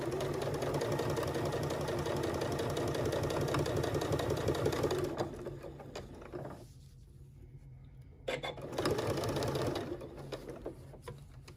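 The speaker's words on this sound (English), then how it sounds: "I have a 1/4 inch foot on my machine, so I can just follow the presser foot all the way around" A sewing machine stitching a foam-padded DSLR lens case with a quarter-inch presser foot, running in a fast, steady close whirring patter for about five seconds, then pausing and restarting in short, quieter bursts.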